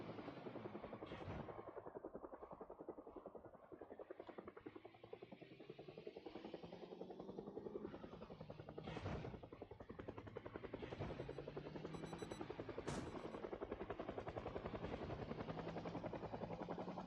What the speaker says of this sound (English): We'll let the helicopter follow me.